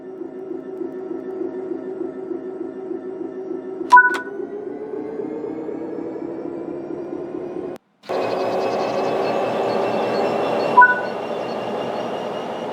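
A Class 66 diesel locomotive in a train simulator game rumbles with a steady low engine drone, with two short electronic beeps and a brief dropout, then the engine note rises louder as power comes on.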